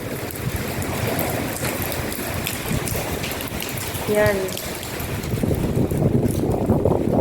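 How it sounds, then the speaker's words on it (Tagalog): Strong gusty typhoon wind under Hong Kong's Signal No. 8 roars and buffets the microphone throughout, with only light rain, near a residential building, and a brief spoken word partway through. "Hindi gaano kalakas ang ulan pero mahangin-hangin siya."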